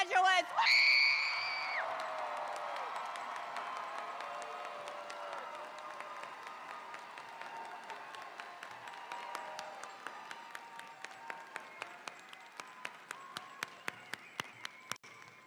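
A large graduation ceremony audience at MSU Texas erupts in applause with shrill whoops and cheers, the dense clapping gradually thinning into scattered, distinct claps near the end.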